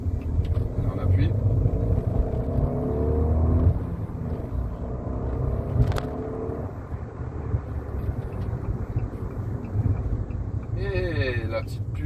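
Fiat 500 S with a 0.9 TwinAir 105 hp two-cylinder engine accelerating, heard from inside the cabin as a steady rising engine drone with low rumble, one brief gear-change dip and a speaking voice over it.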